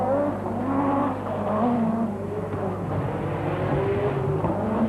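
A turbocharged and supercharged Lancia rally car at the 1985 RAC Rally, its engine roaring loud and steady throughout as it drives the stage, with no talk over it.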